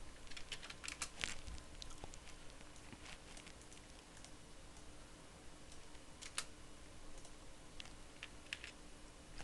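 Faint, sparse computer keyboard keystrokes as a hostname is typed, scattered irregular clicks over a low steady background hum.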